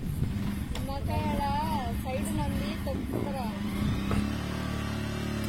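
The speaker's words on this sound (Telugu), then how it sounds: "సో ఇప్పుడైతే బండి స్టార్ట్ చేస్తున్నాం మేము. మా బైక్ వచ్చేసి పల్సర్ 125." A Pulsar 125 motorcycle being ridden, its engine a steady low drone with some rise in revs, heard beneath a person talking throughout.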